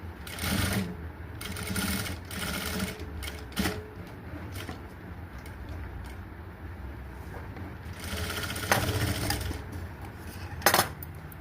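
A sewing machine stitching a blouse, running in short and longer bursts with steady mechanical whirring, separated by brief pauses, fairly close and moderately loud, with no voices.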